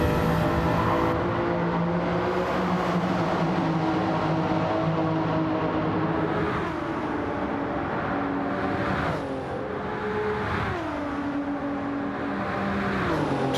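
Race cars in Gran Turismo 7 roar steadily, engines droning at high revs with pitch shifts as gears change and cars slipstream side by side, loud and continuous with no voices.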